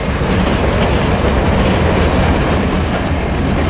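Union Pacific 4014 train rolling steadily past with a loud, continuous rumble and rhythmic clickety-clack of wheels over rail joints, heard up close and alone.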